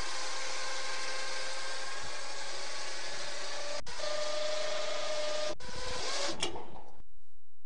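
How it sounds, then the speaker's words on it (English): A Wacker light tower's mast winch runs with a steady mechanical hum and whine, broken by a couple of sharp clunks before stopping abruptly into silence, close and moderately loud. "Now we're ready to raise up the mast."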